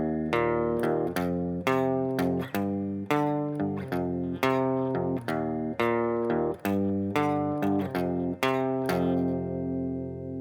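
An electric guitar plays a riff, a run of sharply picked, ringing notes in a steady rhythm with short gaps, loud and alone.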